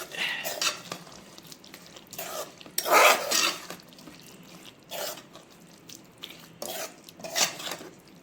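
Chicken curry in a pot is stirred after coriander is added, giving a run of close spoon scrapes and wet stirring bursts over a faint sizzle, with no voices heard.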